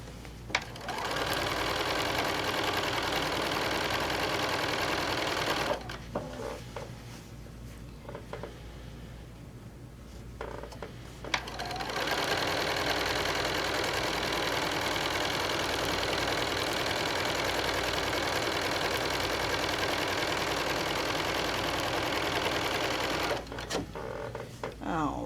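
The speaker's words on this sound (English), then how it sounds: "Again, we're going to sew our 1/4 inch seam." Sewing machine running steadily on a quarter-inch quilt seam, a close, even mechanical whir that pauses briefly in the middle and resumes, with a voice talking over it.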